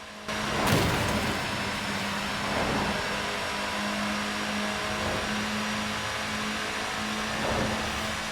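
A 2018 Saleen S1 sports car engine in a racing video game hums steadily with a reverberant, enclosed quality inside a tunnel, with a few brief swells in revs along the way.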